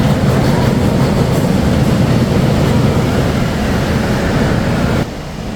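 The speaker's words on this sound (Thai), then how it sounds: "รถไฟถึงป้ารถไฟ" An amusement park train pulling into its station at Sea Con park, a steady loud rumble of wheels and machinery running continuously, then dropping sharply quieter near the end as it comes to a stop.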